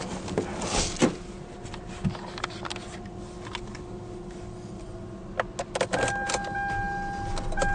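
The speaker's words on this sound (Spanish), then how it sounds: "El vehículo enciende correctamente." A 2016 Hyundai Elantra GLS with an automatic transmission starts after a few faint clicks and interior clatters, then settles into a low, steady idle hum, heard quietly from close by.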